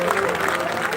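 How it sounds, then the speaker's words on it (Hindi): Loud applause from a crowd at a two-day village Manas Gaan festival, praising the committee that arranged the food, dense clapping running steadily through the full second with speech mixed in. "ऊपर बड़ जोरदार ताली बजना"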